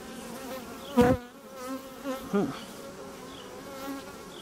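Honey bees buzz and drone close by in a dense hum inside a hive, with a few louder passes of individual insects rising above the swarm.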